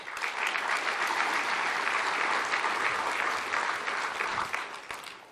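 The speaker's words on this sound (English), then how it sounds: "So please give them a round of applause as well" Banquet audience giving a sustained round of applause at an anniversary dinner, a dense, even roar of many hands clapping that holds steady before tapering off at the close.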